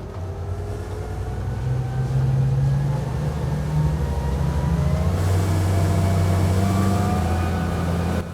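An Aquador 300 HT motorboat engine drones loudly and climbs in pitch as it revs up, a steady low roar building with rising tones over several seconds.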